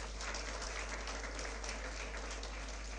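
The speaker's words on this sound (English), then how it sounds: "let's have a big round of applause once again." Audience at a business school event applauding, a steady wash of clapping throughout at low level, heard alone without talk.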